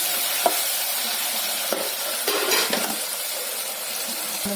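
Tomatoes and turmeric fry in hot oil with a steady close sizzle, broken by a few scraping stirs and light clinks of a spoon against the pan, no voices.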